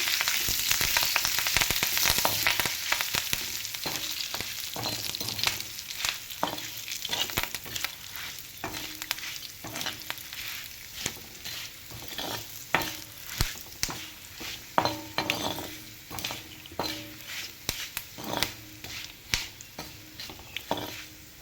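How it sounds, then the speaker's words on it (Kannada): Dry chillies, turmeric and curry leaves frying in hot oil for a spiced flattened-rice dish, with a steady crackling sizzle and repeated scraping stirs that grow more distinct and rhythmic toward the end. "ಒಣ ಮೆಣಸಿಗೆ ಹಾಕಿ ನಂತರ ಸ್ವಲ್ಪ ಅರಿಶಿನ ಆಮೇಲೆ ಕರಿಬೇವು ಇದಿಷ್ಟು ಹಾಕಿಬಿಟ್ಟು ಫ್ರೈ ಮಾಡ್ಕೊಳ್ಳಿ ಹೀಗೆ"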